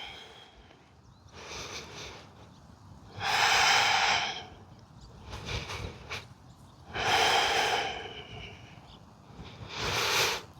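Slow, deep breathing during a yoga flow: three loud, drawn-out breaths about three to four seconds apart, each a soft airy rush, with quieter nasal breaths in between and no talking.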